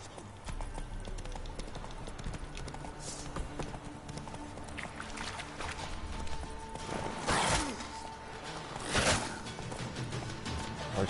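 Hooves of Roach, Geralt's horse in The Witcher, clip-clop at a fast gallop, loud and rhythmic, with game sound effects and a few brief voices in the mix.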